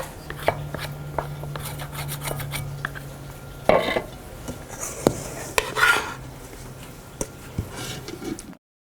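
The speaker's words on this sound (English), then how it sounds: "mix it till it takes on what's considered a shaggy appearance" Pizza dough being mixed in a bowl: irregular scraping, knocking and clinking of a utensil against the bowl, close and moderately loud, with uneven pauses between strokes and no talking.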